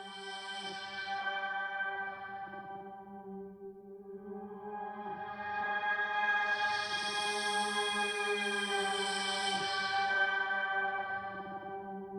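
A high, pad-like, string-textured synth patch from the Sample Alchemy instrument, with pitch bend, sustains as a steady, layered chord alone for about twelve seconds, with its brighter upper shimmer swelling in the second half.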